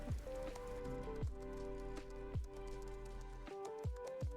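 Soft rain ambience from a productivity app, gentle pattering laid under a calm, tonal musical backdrop with periodic low thumps, quiet and continuous.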